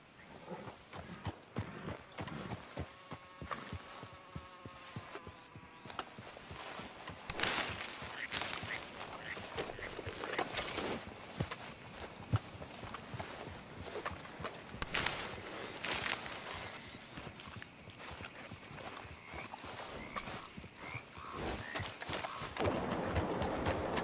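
Steady clip-clop of horse hooves walking in Red Dead Redemption 2, with occasional birdsong and ambient outdoor sounds, moderately loud throughout.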